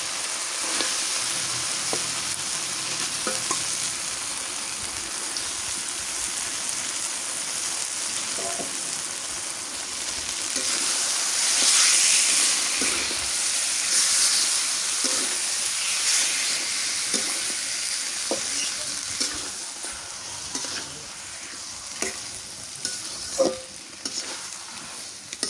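Meat sizzles and is stirred in spice-fried oil, a continuous hiss that swells midway, with repeated scraping and knocking of a spoon against the pan and no speech.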